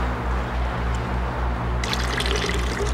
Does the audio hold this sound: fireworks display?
no